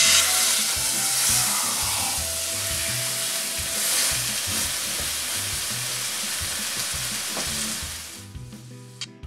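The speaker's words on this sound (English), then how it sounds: "Now we're going to give the skillet a few turns of olive oil, just a couple of tablespoons, so we can sear our beef." Beef searing in a couple of tablespoons of olive oil in a skillet gives a loud, continuous close sizzle with steady hiss and crackle that fades near the end.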